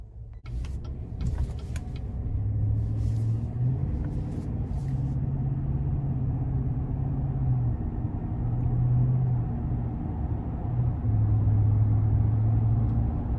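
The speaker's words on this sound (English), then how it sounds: "we're gonna go ahead and take this 2021 GMC Sierra 1500 Denali Ultimate out on the road for a test drive." A 2021 GMC Sierra 1500 Denali Ultimate pickup with a 6.2 engine and 10-speed automatic drives on the road, heard from inside as a steady low engine drone and road rumble. A few faint clicks come early on.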